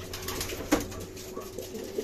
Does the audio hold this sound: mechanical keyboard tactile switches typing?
no